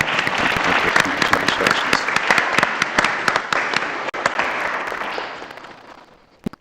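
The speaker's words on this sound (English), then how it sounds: "Please join in applause" A room applauds a newly sworn-in commissioner at a Lynn Haven special commission meeting, with brisk, crackling clapping from many hands that rolls on steadily, then thins and fades out at the end.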